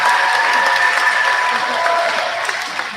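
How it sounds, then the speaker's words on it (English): A room full of people at an 8th grade middle school graduation claps steadily in a dense, loud round of applause, with faint voices mixed in, fading slightly at the end. "Let's give a round of applause for all the speakers."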